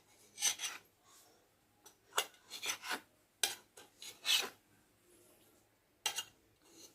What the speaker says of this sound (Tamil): இப்போ வந்து ப்ரெட்டு ஒவ்வொன்றா எடுத்து இந்த மாதிரி ஒரு டம்ளர் எடுத்துக்கோங்க. அவுட்டரை மட்டும் கட் பண்ணிக்கலாம்.